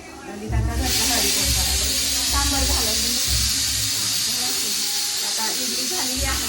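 Sambar tadka hitting hot oil gives a loud, steady broadband hiss that bursts in about a second into the clip and holds throughout, with low rhythmic thumps running beneath it.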